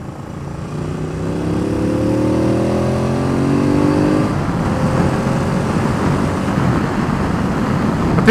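Aprilia Caponord 1200 Rally motorcycle engine while riding, a loud, steady drone whose pitch climbs through the first few seconds of acceleration, then holds as a rough, continuous roar mixed with wind rush.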